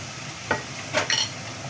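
Onion hits hot oil in a pan for a spaghetti lunch, giving a brief close sizzle with a few quick stirring scrapes and taps.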